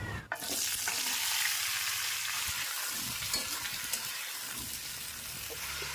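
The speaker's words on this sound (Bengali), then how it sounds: "কড়াইতে তেল রয়েছে তেলের মধ্যে দিয়ে দেব গোটা জিরে বরবটি আর আলু কেটে রেখেছিলাম দিয়ে দিচ্ছি" Whole cumin seeds, yardlong beans and potatoes fry in hot oil in a wok with a steady, close sizzle, occasional stirring scrapes underneath, no talking.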